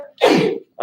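A single sneeze bursts out in a lecture or class setting, loud and close, followed right away by the start of a voice speaking.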